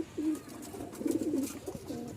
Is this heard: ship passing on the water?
no